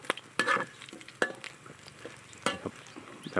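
Food deep-frying until golden and crisp, a low bubbling sizzle broken by several sharp scraping and clattering bursts of a utensil moving pieces in the pan, close and fairly quiet.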